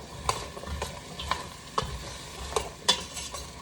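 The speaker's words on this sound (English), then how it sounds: "And then we'll give it a nice stir." Hodgepodge soup stirred in a pot with vegetables, onions and garlic, a spoon knocking and scraping in a slow irregular rhythm over a low bubbling sizzle, close and moderately loud, no speech.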